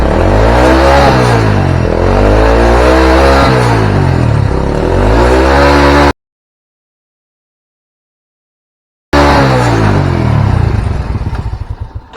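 Engine of a Honda Supra motorcycle with a fuel-hungry, sooty-plug fault revs loudly and unevenly, rising and falling in rough bursts, cuts out to silence for several seconds, then sputters back and fades.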